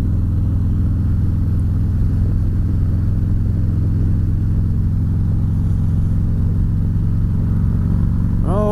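A motorcycle engine drones steadily while riding, a loud continuous rumble with constant wind noise, holding an even pitch throughout and rising slightly in revs at the very end.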